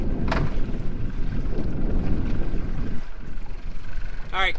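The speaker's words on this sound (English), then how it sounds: "The wind's blowing pretty good, way more than they said it was going to be." Strong wind buffeting the microphone on a small fishing boat out on the water, a loud, rumbling gusty rush that eases slightly near the end, with a brief voice-like sound at the close.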